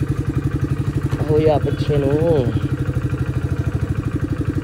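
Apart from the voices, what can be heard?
motorcycle engine idling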